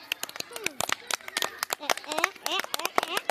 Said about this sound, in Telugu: క్లాప్స్ కొట్టి